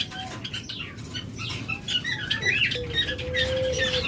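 Caged diamond doves give scattered chirps and short calls over a steady bed of soft patter and wing flutter, fairly close and busy throughout.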